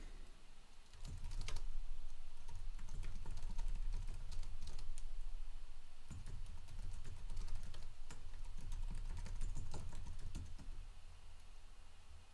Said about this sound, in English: I promise I'm typing normal speed.